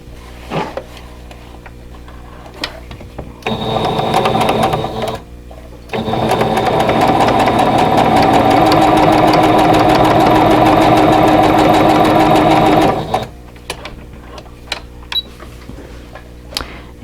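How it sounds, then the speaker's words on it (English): Sewing machine stitching quilt block fabric pieces: a short burst of steady motor whir, a pause, then a longer continuous run of fast stitching, close and loud, with quiet handling noises before and after. "Okay, and then sew this one together."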